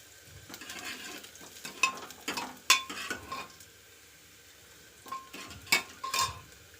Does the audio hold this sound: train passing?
no